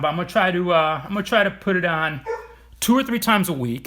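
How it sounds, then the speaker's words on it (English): A dog barks in the background, faint and partly buried beneath a close, steady talking voice that runs through nearly the whole stretch. "I don't know if you guys can hear the dog barking in the background"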